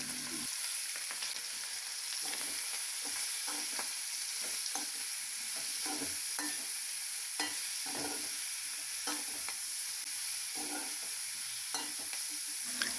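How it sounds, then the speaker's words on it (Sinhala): Dried sprats frying in oil in a pan give a continuous, even hiss and crackle, close and steady, with occasional small pops and light utensil scrapes. "ඉතින් මම හාල් මැස්ස ටික ඉස්සෙල්ලාම තෙලෙන් බැදෙන්න තියෙනවා."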